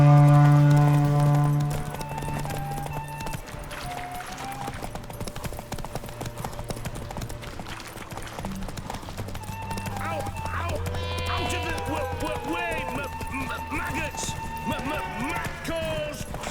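Roach the horse gallops in The Witcher 3 video game, a steady clip-clop of hooves running under continuous game music and background ambience, with a voice speaking briefly over it.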